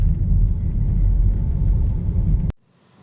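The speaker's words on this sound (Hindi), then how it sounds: "ट्रैफिक है भाई साहब, देख रहे हो ट्रैफिक।" Dense road traffic on a city street at a busy junction in Connaught Place, with a steady low rumble of car and vehicle engines close by that cuts off abruptly near the end into near silence.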